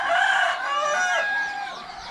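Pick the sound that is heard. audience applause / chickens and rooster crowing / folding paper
chickens and rooster crowing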